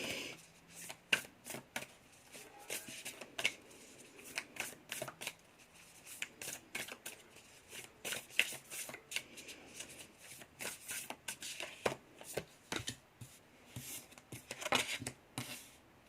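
Tarot cards being shuffled by hand before a single card is drawn: quiet, close, repeated riffling and slapping bursts in an irregular rhythm, with no talking.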